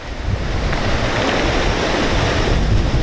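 Water waves wash onto a shore in a steady, rushing surge. Wind buffets the microphone throughout, and no one speaks.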